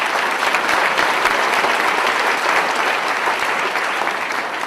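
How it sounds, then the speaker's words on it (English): Audience at an education outlook presentation applauding, a dense, steady wash of clapping from a full room, loud and sustained without pause for the whole stretch. "please give yourselves a round of applause for that accomplishment"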